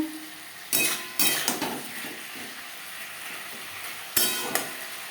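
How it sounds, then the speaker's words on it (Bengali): Sliced tomato and vegetables are stirred in a pan over a high gas flame, with a steady sizzle beneath. A few loud metal-spoon scrapes and clatters stand out near the start and again toward the end. "সবজির সাথে টমেটো বেশ ভালো করে মিক্স করে দেবো।"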